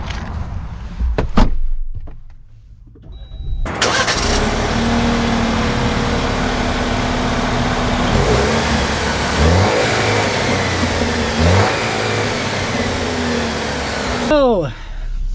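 A 2025 Jeep Wrangler Rubicon X comes to life with a sharp start-up, then its engine settles into a steady, close drone as it pulls away, with revs rising and falling through the drive.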